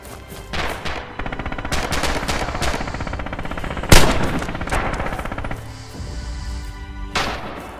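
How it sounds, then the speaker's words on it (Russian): Automatic fire from a machine gun in the World War II shooter Red Orchestra 2: Heroes of Stalingrad, with rapid bursts, a sharp nearby shot, and scattered distant gunfire. "что за выстрел?"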